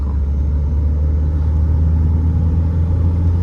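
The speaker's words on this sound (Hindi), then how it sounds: "उतनी आवाज़ है नहीं इसके इंजन में जितनी होनी चाहिए XUV के अंदर, जितनी 2200 सीसी के अंदर आवाज़ है।" Mahindra XUV500 2200cc diesel engine idles as a steady, loud low drone with an even rumble throughout and no talking.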